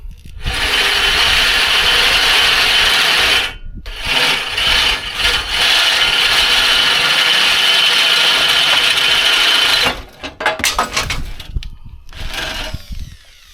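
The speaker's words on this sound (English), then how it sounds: "I gotta use my hand drills." A handheld drill bores into wood on a metal-and-wood driveway gate build in a leaky shop, a loud, close whirring grind that runs for a few seconds, breaks off briefly, resumes, then stutters in short bursts toward the end.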